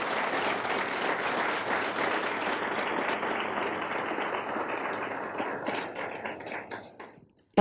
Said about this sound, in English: May I have a round of applause for all of these individuals?